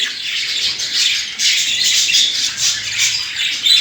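Budgerigars in a breeding setup chatter and squawk in a dense, continuous shrill flock, loud and close with overlapping calls.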